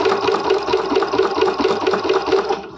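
Home sewing machine stitching leather at a steady pace, a loud, close, even rhythmic whirring hum with regular needle thumps, running alone without talk.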